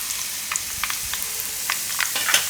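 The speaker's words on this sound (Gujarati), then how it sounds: "થોડુંક લસણ લાલ થવા દેવાનું આ રીતનું" Garlic frying in hot oil, giving a steady close sizzle with scattered crackles and pops over a short stretch, with no voices.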